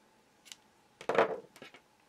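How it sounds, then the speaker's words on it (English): Scissors snip off spare magenta yarn at the end of a hand-knitted hat, giving a faint tick and then a cluster of sharp close snips and rustles lasting about a second, with no voices. "cut the extra magenta that I have"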